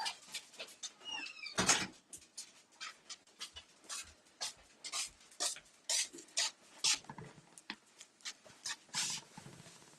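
A small dog pants rapidly and whimpers close by, the rhythmic breathy bursts repeating steadily throughout with one sharper yelp early on.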